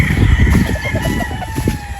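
A rooster crows close by, loud and drawn out, with hens clucking and other fowl noises in the background.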